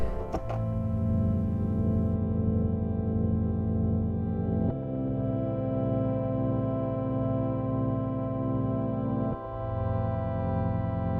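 A sustained synthesizer sine-wave tone with heavy chorus and echo effects, shifting pitch twice in smooth, dreamy held notes.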